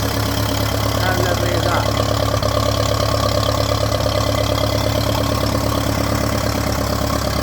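A 1951 Ferguson TED20 tractor engine idles steadily after starting, a loud continuous low chugging throughout, with a person speaking briefly over it.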